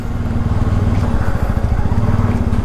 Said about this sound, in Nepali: पिकअप चाहिँ छ बाइकमा होइन दुई गियर तिन गियर चार गियर